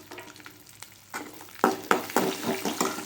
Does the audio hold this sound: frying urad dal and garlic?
yes